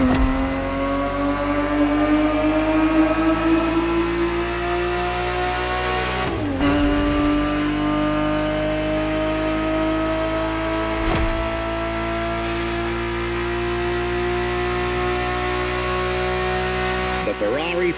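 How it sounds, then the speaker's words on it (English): Ferrari 365 GTB4 V12 engine in The Crew Motorfest racing game, a loud steady drone holding high revs, rising slowly in pitch, with brief dips at gear shifts, continuous throughout. "The Ferrari 365 GTB4 is the perfect vehicle for you to experience Ferrari racing as it felt back in the 70s"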